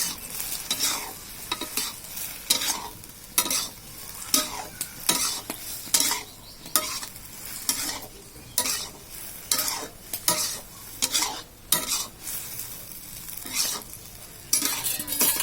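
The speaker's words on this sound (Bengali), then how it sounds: "এবার একটু সুন্দর করে আবার নাড়িয়ে নেব" Okra (bhindi) frying in a pan is stirred again and again, each scrape and toss of the spatula rising over a steady sizzle in a quick, repeating rhythm, close and clear with no talking.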